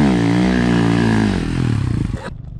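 A motorcycle engine revs hard and loud up close while climbing in a gravel pit, its pitch climbing and then wavering before cutting off abruptly near the end.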